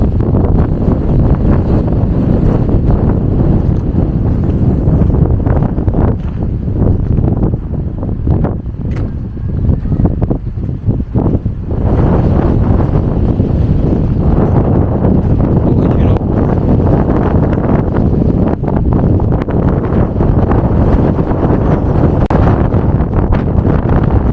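Strong wind on Mykonos roars loudly and continuously across the microphone, a heavy blustering rush with brief lulls around the middle.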